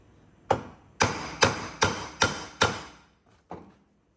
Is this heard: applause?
no